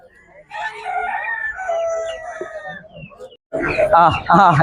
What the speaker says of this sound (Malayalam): ഇത് പിന്നെ നാടൻ കോഴിയാണ്